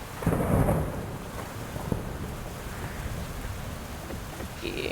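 Thunder and rain in the farming video game Fields of Mistria: a deep rumbling roll rises and fades over a constant hiss of falling rain, with a brief crackle partway through.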